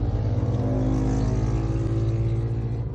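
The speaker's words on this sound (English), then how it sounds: "sorry about the loud motorbikes." Loud motorbikes pass outside, a steady, dense roar of engines that hangs at near-constant volume for the whole few seconds with no talk over it.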